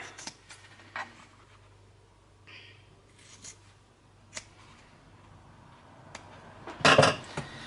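Scissors cut a square out of fabric for a small makeup bag in a series of faint, sparse snips and scrapes, closing with a slightly louder crisp cutting sound.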